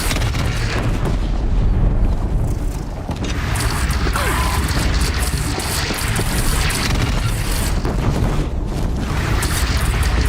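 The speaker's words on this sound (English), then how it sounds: "They only have one cannon!" A bandit clan's cannon keeps firing in a video game battle, with heavy booms and rumbling blasts over a thick, constant din of combat and machinery. There is no talk.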